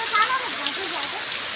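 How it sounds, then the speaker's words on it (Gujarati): Heavy monsoon rain pours over a village as a steady, dense hiss close by, filling the whole moment evenly, with a voice faintly present beneath it. "તો ધોધમાર વરસાદ ચાલુ થઈ ગયો છે, તમે જોઈ શકો છો"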